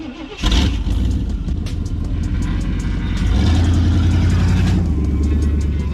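A 1990s Ford pickup truck engine, running a little rich, cranks and catches, then settles into a loud, steady idle with a deeper rumble as it revs slightly, close by.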